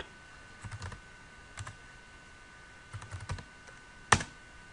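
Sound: typing a password on a computer keyboard

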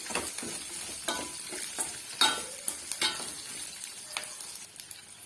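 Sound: sautéing shallots (sambar onions) in a pan

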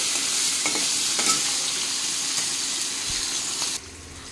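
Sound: chopped onion frying in a pan

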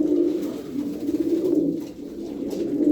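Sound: pigeons cooing

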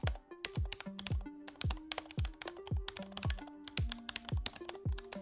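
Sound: Cherry low profile mechanical laptop keyboard clicking

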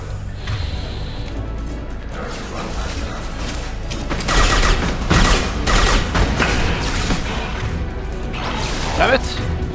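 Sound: impact shot being fired in the video game Mass Effect 2

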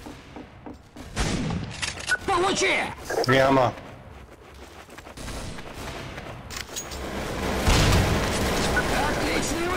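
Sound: gunshots in the video game Counter-Strike Source

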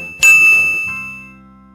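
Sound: notification bell ding sound effect

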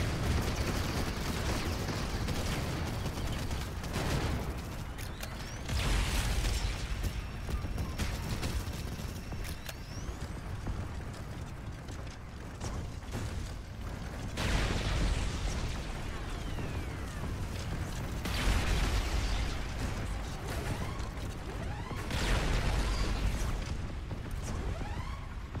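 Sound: chain gun fire and explosions in Robocraft video game

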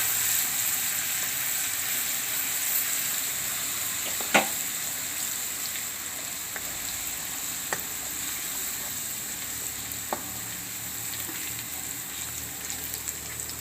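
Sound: chilies and garlic sizzling in hot oil tempering

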